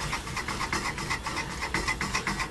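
A homemade electric vehicle rolls slowly along a road, giving a steady, chuffing, steam-engine-like rhythmic noise that pulses throughout at close range.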